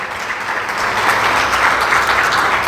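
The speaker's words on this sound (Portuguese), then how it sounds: "Você pode aplaudir o Senhor por isso" A church congregation applauds during a sermon, a thick, even wash of many hands clapping together that swells slightly and holds without talk.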